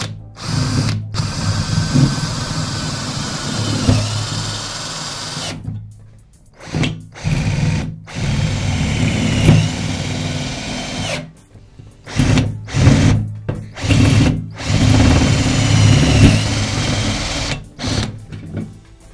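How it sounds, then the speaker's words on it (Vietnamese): A Makita DF457 18V cordless drill drives screws into sheet metal roofing, loud whirring bursts of several seconds each separated by short silent pauses, with a ratcheting clutch edge as screws seat. "Tiếp theo mình bắn tôn thử anh em."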